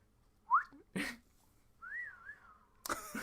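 A slide whistle plays short rising and wavering pitch glides, a quick upward swoop then a longer wobbling tone, interspersed with brief bursts of other noise, close and moderately loud.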